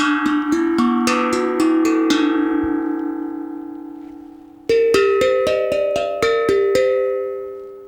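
Bright metallic tones struck one at a time from a tongue drum made from a small gas cylinder, a run of ringing notes, a brief pause, then another run, loud and near.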